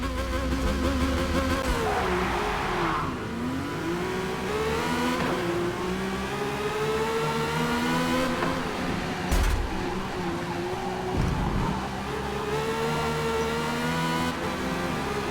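Ferrari engine in the Forza Motorsport racing game, a rising and falling high-pitched whine through gear changes, loud and continuous with a brief sharp shift blip midway.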